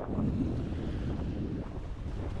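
Wind blows steadily over choppy, wind-stirred sea water at a beach, a continuous close rushing roar with microphone buffeting and no voices.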